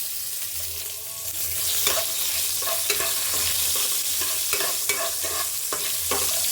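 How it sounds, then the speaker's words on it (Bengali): Bay leaf and green chilli tempering frying in hot oil in a pan, a loud, steady sizzle with intermittent scraping clicks from stirring, close up and continuing without pause. "ফোড়নটাকে এরকম করে ভাজতে থাকবে যতক্ষণ না লাল হয়"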